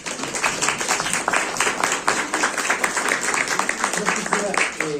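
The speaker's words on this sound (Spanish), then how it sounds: "Un aplauso para los dos." Audience at an educational innovation workshop applauds two speakers, a sustained, fairly loud patter of many hands clapping, with a voice starting near the end.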